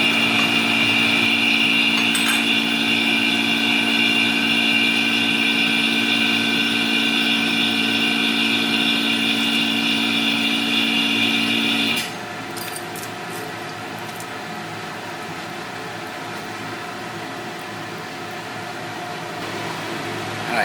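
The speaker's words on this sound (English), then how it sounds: "And now I'm going to fire up the vacuum and we'll pour this through this filter." A vacuum pump runs steadily and loud, drawing a clear gold-refining solution through a filter, then the tone drops and settles to a lower, quieter hum partway through, with no talking.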